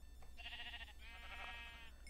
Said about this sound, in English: Wait, is that a sheep?